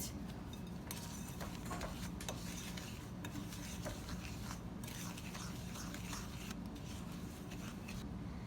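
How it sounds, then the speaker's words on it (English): Granulated and brown sugar being mixed into butter in a bowl for snickerdoodle bars, heard as a faint, continuous scraping and clicking stir with small irregular knocks and no voices. "I'm gonna put that in with the butter. And now I'm just going to mix this together a little bit."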